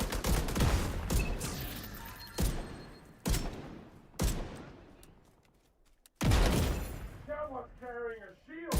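Gunfire in The Division 2 video game: repeated loud bursts of automatic fire with sharp onsets and ringing decays, followed by a pause, then more shooting while a voice talks over it.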